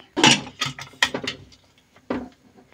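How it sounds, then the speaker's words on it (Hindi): A few close metallic clunks and scrapes as the heavy lid of a pressure cooker is fitted and twisted shut, in short separate bursts. "अब मैं इस कुकर को बंद कर दूंगी"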